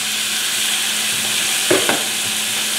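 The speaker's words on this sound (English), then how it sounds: "I'm going to raise the heat and reintroduce the onions to the pan" Caramelized onions returned to a hot pan of cooked masala, nigella seeds and cumin for paneer butter masala, producing a steady close sizzle broken by a couple of brief stirring scrapes near the end.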